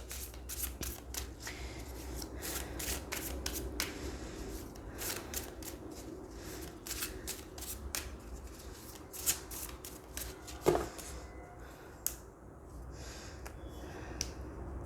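Tarot cards are shuffled by hand close up, a fast run of crisp, papery riffles and slaps carrying on for several seconds, then slowing to scattered softer taps.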